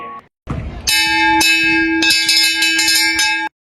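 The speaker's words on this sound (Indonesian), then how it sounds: "Setelah bel pulang sekolah berbunyi, Nafisya, Desi, Farhan, dan Ibu Guru Tasya m" A school bell ringing to mark the end of the school day, a bright sustained metallic ring with repeated struck pulses, loud and close after a brief burst of noise, heard alone.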